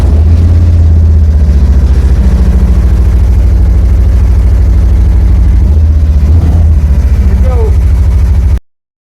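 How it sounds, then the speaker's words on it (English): A motorcycle engine runs loud and close, a steady low rumble with a slight change in pitch partway through, under a voice speaking. "let's make sure this bike's gonna start"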